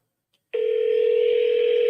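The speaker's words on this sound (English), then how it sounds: "I'm put these on speakerphone so you guys can hear." A steady telephone tone comes through a speakerphone after a brief silence, holding at constant loudness to the end.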